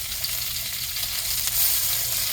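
Pork chops searing in a hot pan, giving a steady, close hiss and crackle of frying fat that carries on unbroken with no voices.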